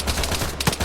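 A brief burst of gunfire from a BTR armored vehicle during a military field training exercise, a few sharp, loud cracks in quick succession at fairly close range.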